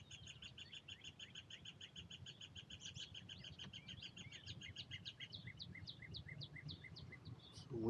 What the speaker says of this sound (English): It's the woodpecker making that noise.